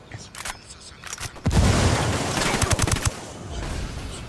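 A grenade blast and bursts of rapid gunfire in the Ghost Recon Wildlands video game, with a loud, dense rumble and crackling shots that then give way to scattered fire.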